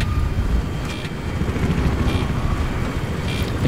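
A helicopter in the Battlefield 3 multiplayer game, on the Kharg Conquest map, gives off a loud, steady rotor and engine rumble that drones low for several seconds alongside other battle noise.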